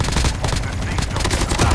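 Dense, rapid bursts of video game gunfire, rattling almost continuously and close, like automatic weapons firing together.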